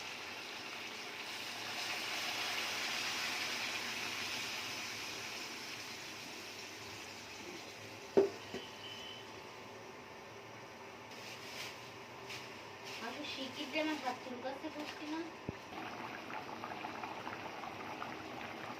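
Hot water added to a chicken and potato curry in a pan, boiling and bubbling steadily at close range, with a sharp clink partway through and small clatters near the end.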